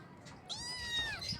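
A kitten gives a single thin, drawn-out meow, close and clear against a quiet background.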